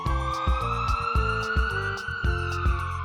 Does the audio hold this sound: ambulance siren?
yes